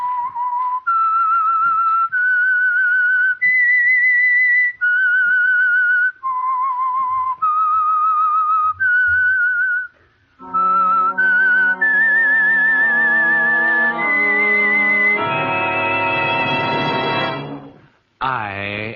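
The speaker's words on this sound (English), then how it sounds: "That whistle is your signal for the Signal Oil Program" A lone whistler carries a slow, wavering melody, clear and loud, as the radio signal for the Signal Oil Program's The Whistler; a bright orchestral swell joins in partway through and builds to the end.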